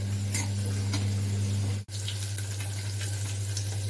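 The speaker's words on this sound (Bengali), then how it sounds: "আলুগুলো প্রথমে ভেজে নিচ্ছি।" Potatoes frying in a pan as the first step of a Bengali fish curry, a steady close sizzle with a constant low hum and a brief clatter partway through.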